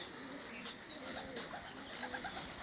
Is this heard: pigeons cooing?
yes